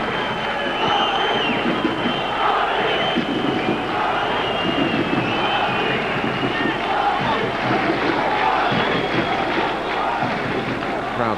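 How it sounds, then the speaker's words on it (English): A football stadium crowd at a 1997-98 Champions League match between Monaco and Sporting CP, a dense continuous roar swelling steadily beneath a commentator's voice. "Crowd starting to come alive now."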